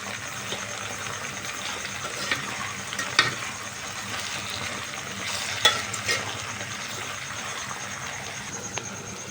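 Spices and rock salt being stirred in a frying pan, a soft steady sizzle with faint scraping throughout and a couple of brief spoon clinks.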